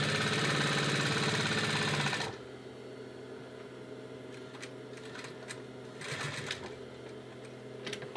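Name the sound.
sewing machine stitching a seam of an ottoman cover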